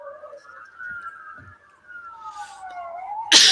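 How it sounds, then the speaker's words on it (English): Police siren wailing outside in a steady, falling tone that runs the whole clip, moderately loud, with a sudden louder burst of noise at the very end. "Not by the sirens outside and the screechy tires"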